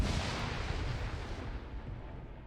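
A grenade detonation in a multiplayer shooter game, a heavy low rumbling blast that lingers and slowly decays, with no talking over it.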